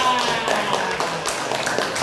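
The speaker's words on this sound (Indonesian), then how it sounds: "Oke, tepuk tangan dulu buat Aska" Classroom of young students clapping for a classmate, a brief dense patter of applause with some voices mixed in.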